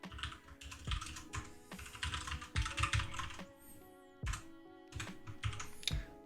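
Close, crisp keyboard typing comes in steady clustered bursts as Python for-loop code is written, with brief gaps and faint tonal sounds beneath and no talking.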